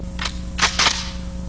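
Gunshots fired at targets 10 yards away on an outdoor range, heard as three sharp, fairly close reports, a lighter one followed by two louder ones in quick succession, over a steady hum.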